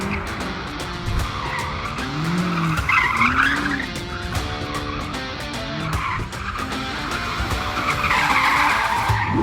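A BMW M5 Competition drifts in rear-wheel-drive mode, tyres squealing loudly and continuously over the roaring, revving engine, with sliding screeches swelling and fading across the run.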